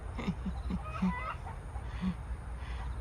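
Several chickens in a garden plot call out with short, rapid clucks in scattered bursts, fairly near, as evening feeding time approaches.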